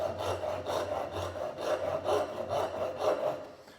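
A handheld backsaw cuts along a marked line in wood, with rhythmic rasping push-and-pull strokes, about seven of them, close and moderately loud with no voices.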